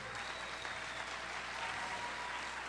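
An audience at an employee service day event gives sustained, even applause to award recipients, a steady wash of clapping from a crowd in a hall with no voices over it.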